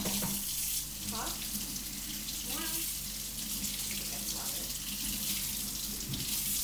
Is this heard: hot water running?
yes